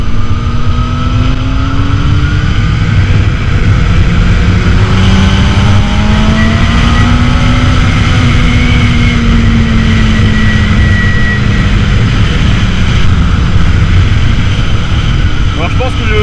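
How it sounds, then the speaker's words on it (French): A 2008 Kawasaki ZX6R sport bike's engine and exhaust run loud and close, with a continuous drone whose pitch swells and eases across several revs throughout. "Le plus fou, c'est vraiment le son que fait le moteur quoi."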